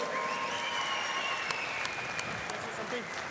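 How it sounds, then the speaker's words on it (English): Applause from the crowd at a Brazilian jiu-jitsu pro event in Ireland, honoring an athlete, fairly quiet and distant clapping with a few sharper claps standing out, while voices carry on talking over it. "A big round of applause for Philippe, everyone."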